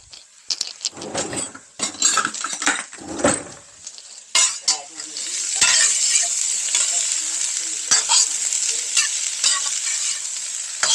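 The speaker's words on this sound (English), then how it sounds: "I have the pan with olive oil in it to get it started frying" Food sizzles steadily in olive oil in a hot pan, with a utensil scraping and stirring through it and occasional clinks of metal.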